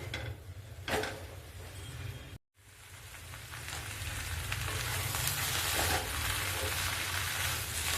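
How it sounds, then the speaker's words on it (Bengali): Onions sizzling in hot oil in a pan while being stirred, a steady loud crackling hiss with occasional scrapes of the spoon and a brief break partway through, close up with no voices. "এবার পেঁয়াজগুলি দিয়ে ভালো করে এটাকে একটু কষিয়ে নিতে হবে।"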